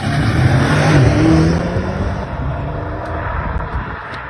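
A BMW M5 revs hard and pulls away from a car show, a loud close engine roar that builds briefly then fades as it drives off into the distance.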